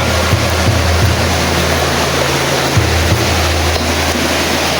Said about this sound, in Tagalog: Kaya malakas yung agos ng sapa.